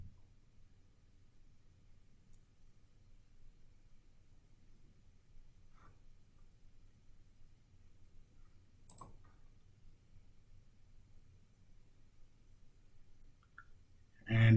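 Computer mouse clicks in a quiet room, a few faint, sharp, isolated clicks spaced seconds apart over a low background hum.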